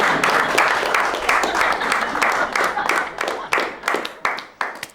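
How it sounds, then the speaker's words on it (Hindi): Applause from guests at an anniversary party: a dense burst of many hands clapping close by, steady at first and then thinning into separate claps as it fades out over a few seconds. "तालियां।"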